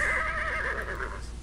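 A horse whinnies in King's Quest VI, a long wavering neigh of steady volume heard alone across the whole stretch.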